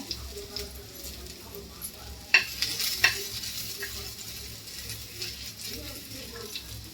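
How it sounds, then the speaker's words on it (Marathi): Garam masala and coriander seeds fry in hot oil for Khandesh patodya, a soft, faint sizzle with a few sharp utensil clinks and stirring scrapes, while a voice speaks at times. "आणि धने टाकले, तेलामध्ये भाजते"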